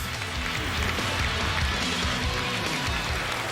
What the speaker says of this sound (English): Nice ovation from the crowd.